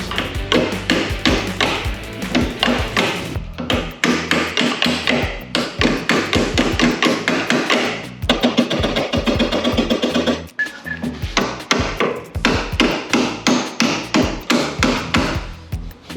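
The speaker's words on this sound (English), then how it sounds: "You need the welding hammer." Rapid, repeated welding hammer blows ring out close by, clattering in quick bursts with brief pauses, as a bent steel bracket from a Volkswagen Scirocco is beaten back into shape.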